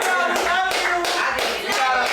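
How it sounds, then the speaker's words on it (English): Clapping from the crowd at a birthday celebration on a TV show, close, sharp rhythmic claps in bursts, with a steady hum and some musical tones underneath. "let's give a round of applause to Vito"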